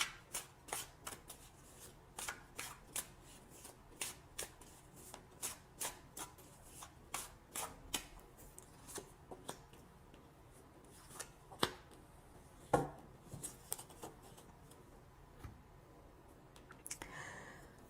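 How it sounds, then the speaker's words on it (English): Tarot cards are shuffled by hand in a steady series of crisp, close riffling snaps and soft slides, heard alone in a quiet room. "So now I'm going to choose two cards for guidance."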